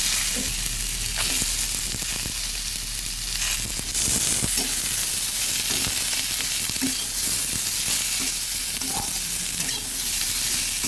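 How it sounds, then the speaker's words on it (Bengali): Winter vegetables and beans frying lightly in a pan for a Bengali fish curry, a steady close sizzle with repeated spoon-stirring scrapes and clinks throughout, no talk. "হালকা একটু ভেজে নিচ্ছি"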